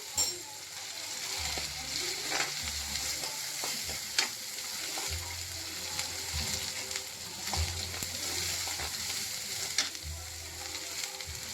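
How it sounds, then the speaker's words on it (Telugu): Ginger and garlic sizzle steadily in a hot pan as a spoon stirs them, with scraping and clinks coming through at intervals over the continuous frying hiss. It sounds close, with no voices. "వేసుకొని అల్లం వెల్లుల్లి ఉడికేదాకా కొంచెం కలుపుకోవాలి"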